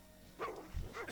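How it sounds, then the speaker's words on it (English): A dog enemy in World of Warcraft gives two short, fairly faint barks in quick succession during gameplay. "Let's see if he helps out killing this doggy."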